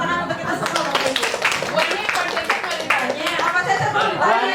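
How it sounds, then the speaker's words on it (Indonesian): Audience clapping at a school gathering in Indonesia, a steady burst of many hands mixed with chatter and voices talking throughout. "tepuk tangan untuk kita semua"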